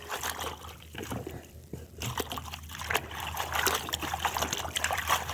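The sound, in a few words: water running while washing spinach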